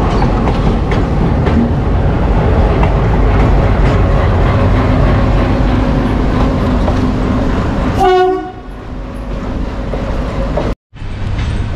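Rajendra Nagar–Howrah Superfast Express pulling out of Bardhaman station: a steady loud rumble of wheels and carriages rolling along the track, a sharp horn blast near the end, then a brief cut-out before the rumble resumes.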